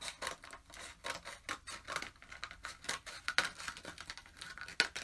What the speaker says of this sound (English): I'm just going to cut it up, and I'm just going to cut the circle.